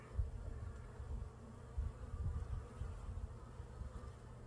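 A dense, continuous low buzz of many honeybees in a hive, close and steady, swelling slightly in waves with no voices.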